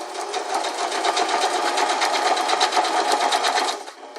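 A sewing machine stitches steadily around fabric edges near snaps, a fast even rattling run that carries on alone for about four seconds before stopping.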